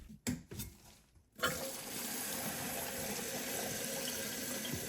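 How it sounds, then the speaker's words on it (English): Water rushes into a Kohler toilet tank as it refills through a newly installed silent fill valve, with a steady hiss of flow that starts after a few brief clunks and continues evenly, close and moderately quiet. "the tank should fill as normal, and we'll just observe to make sure that it comes up to the right water level"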